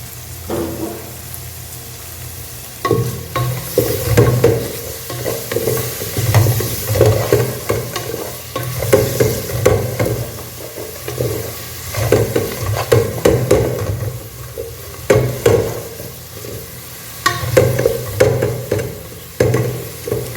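About 100 ml of oil poured into a pan while cooking Dindigul mutton biryani sizzles steadily, with stirring scrapes and clatter rising and falling over a continuous frying hiss, close and fairly loud, no voices.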